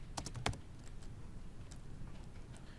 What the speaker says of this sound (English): I'm just going to go ahead and type it out anyway,